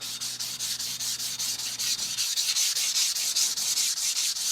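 A kitchen knife being sharpened on a Cheefarcuut vitrified diamond whetstone, 400 and 1k grit, sounds as a steady run of rhythmic, close gritty scraping strokes, about four per second, with a faint low hum under the first half.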